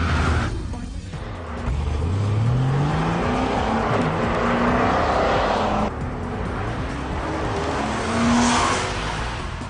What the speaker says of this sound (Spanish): Y el Ferrari tiene una voz especial. Tiene un gran sonido